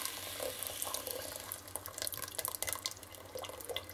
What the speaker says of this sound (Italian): utilizzando le stesse bottiglie, riempiamo la bottiglia, si vede, di acqua